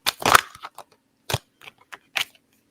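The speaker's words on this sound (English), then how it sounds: "as I shuffle to try to figure out what's going on" Tarot cards being shuffled by hand, heard as a few sharp, papery riffling bursts separated by short pauses, close and alone.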